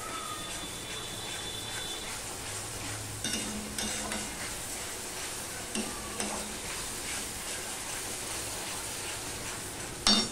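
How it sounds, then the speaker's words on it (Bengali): Spiced curry with ground chili, no turmeric, sizzles and is stirred in a pan, a steady frying hiss broken by scraping utensil strokes and a sharp clack at the end. "এবার দেখো বন্ধুরা, এটা আমি একটুখানি কষিয়ে নিচ্ছি।"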